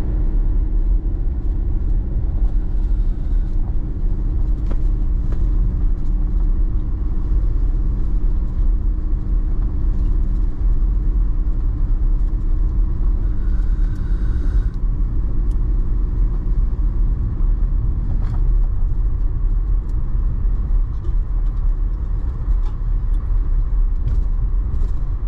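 A vehicle cruises along on the way to a fishing spot, a steady, close interior road rumble and engine drone that continues without pause and without talk.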